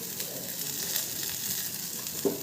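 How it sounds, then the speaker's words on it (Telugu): Roasted rice rava going into boiling salted water for upma, a steady hissing bubble filling the pot with a brief soft knock near the end, no voices. "ఇలా మరిగే నీళ్ళలోకి మనం వేయించి పెట్టుకున్న బియ్యం రవ్వను వేసేసుకోవాలి"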